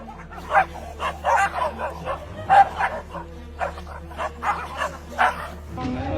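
Two dogs bark fiercely at a thief who broke into a house, a rapid run of sharp barks and yips with a few whimpers, close and loud throughout.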